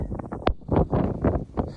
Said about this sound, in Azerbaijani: Külək o qədər güclüdür ki, qaldala gedirik.